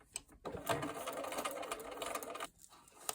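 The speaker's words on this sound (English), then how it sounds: "So I'm just going to sew straight down that dashed line, and I'll go 1 or 2 stitches past this line." Sewing machine running a continuous straight seam through a paper-pieced sailboat quilt block at regular stitch length, a steady close whirr with brief pauses at the start and end.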